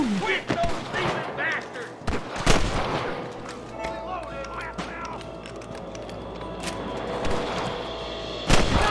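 Gunfire at cattle rustlers in Red Dead Redemption, loud sharp shots and booms scattered irregularly through the scene, mixed with game effects and voices talking.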